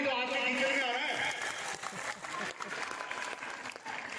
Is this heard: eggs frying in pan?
no